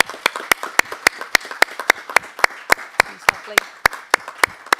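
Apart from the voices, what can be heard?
audience applause for Diane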